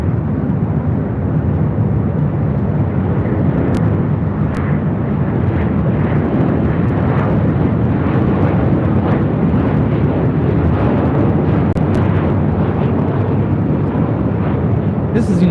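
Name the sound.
United Airlines Boeing 737-900ER jet at LAX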